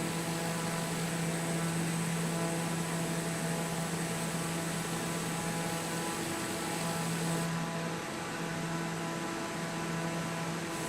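Steady, continuous drone of an aircraft engine in Microsoft Flight Simulator 2020, a constant hum with a low tone and broadband hiss that holds evenly throughout with no talk.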